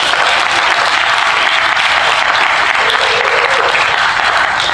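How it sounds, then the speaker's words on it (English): An audience at the Blerdcon 2019 convention closing ceremony gives a dense, sustained round of applause, loud and even from start to finish with no talk over it. "So give yourselves a round of applause for that."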